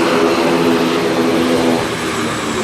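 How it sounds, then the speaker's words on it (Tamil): An IndiGo passenger airplane at an airport, its engines roaring loudly and steadily throughout, a broad continuous drone with a slight fall in pitch, with no talk over it. "இந்த ஃப்ளைட் போகுதுறாப்பா இண்டிகோ"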